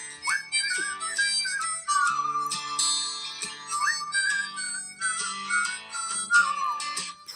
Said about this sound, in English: Got a whistle for this song.